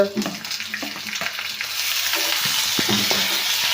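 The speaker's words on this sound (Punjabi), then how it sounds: "ਤੇ ਇਹਨੂੰ ਹਲਕਾ ਜਿਹਾ ਭੁੰਨਾਂਗੇ ਆਪਾਂ ਤਕਰੀਬਨ 1-2 ਮਿੰਟ" Onion, tomato and green chili roast in a hot kadai for kadai paneer, giving a steady close sizzle with scattered clinks and scrapes of a spoon against the metal.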